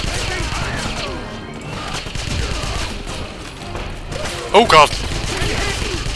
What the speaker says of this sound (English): That machine gun nest seems to have...